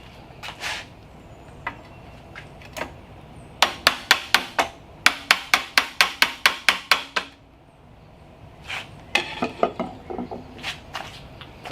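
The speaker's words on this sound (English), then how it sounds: "Sometimes you got to give it a little tappy tap." A hammer taps on a race truck chassis part built from Mustang II components, first in a few scattered knocks, then a quick run of about a dozen sharp, close strikes, followed by more scattered taps.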